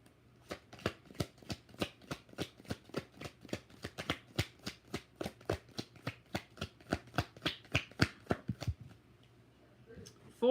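Tarot cards riffle-shuffled up close: a steady run of about twenty-five sharp, crisp snaps at a quick even pace for roughly nine seconds, then stopping, with no talking.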